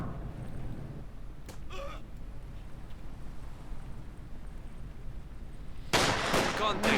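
Rifle fire in the World War II strategy game Company of Heroes 2: faint, muffled shots under a low background rumble, then a louder cluster of crackling reports near the end.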